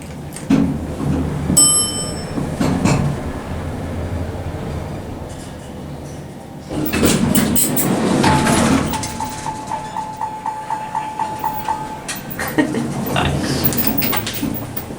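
An OTIS black-button traction elevator at Macy's in Coddingtown Center, Santa Rosa, sounds a bright chime, then its doors slide and thud, followed by a sustained tonal beep and repeated rhythmic clicks, all loud and close.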